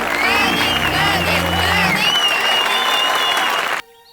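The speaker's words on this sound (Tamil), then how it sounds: "நமது கல்லூரிக்கு முதலிடம் வாங்கி பெருமை சேர்த்துள்ள மாணவர் கதிருக்கு இன்னும் பலத்த கரகோஷத்தை" College students applaud loudly, a dense wash of clapping with cheers and a rising whistle, sustained for several seconds before cutting off abruptly.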